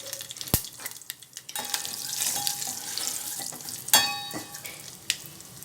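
Mustard seeds, cumin and dried chillies frying in hot oil for tomato pepper rasam, a soft steady sizzle with a few sharp pops and stirring clinks near the start and middle, no talking.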